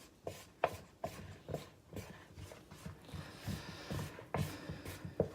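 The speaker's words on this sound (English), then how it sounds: "We'll just mix a little bit at a time in." Flour is worked into sweet roll dough by hand, giving quiet, rhythmic thumps and soft rubbing and squishing sounds, close by with no talking.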